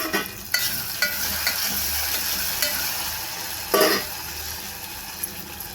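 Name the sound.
sautéing onion, tomato, curry leaves, garlic, ginger-garlic paste in pan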